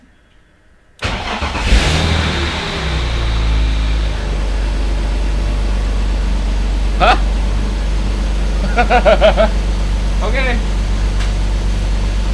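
A BMW E46 track car engine of unknown condition cranks and fires after sitting quiet, then settles into a steady, loud, close idle with a low rumble, while a person briefly talks nearby.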